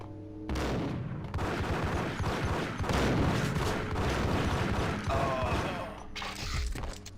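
Gunfire in the video game Max Payne, dense overlapping shots and booms in a sustained burst lasting several seconds, loud and close, with no speech.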